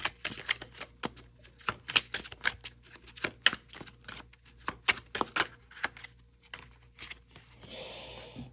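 Tarot card deck being shuffled by hand, close rapid riffling clicks in quick bursts, ending in a soft rushing swish.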